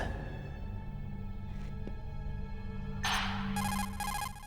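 In the video game Metal Gear Solid, an electronic phone ring sounds in rapid repeating pulses near the end, loud over a low steady game hum with a few faint clicks before it.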